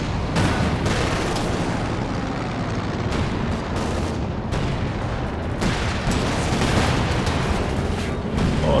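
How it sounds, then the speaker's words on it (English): Creeping artillery barrage in Company of Heroes 2, a 4v4 battle, with repeated heavy booms and explosions rolling in one after another, loud and dense over continuous battlefield noise. "Showing how good the creeping barrage can be on them."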